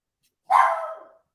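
Single short bark from a pet dog named Mocha, sharp and fairly close, then silence.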